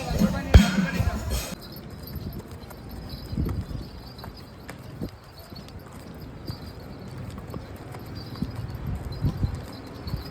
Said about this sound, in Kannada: ಇವಾಗ ಒಂದು ರೌಂಡ್ ಕುದುರೆ ಹೊಡೆದ್ಬಿಟ್ಟು ನೆಕ್ಸ್ಟು ಹೋಗೋಣ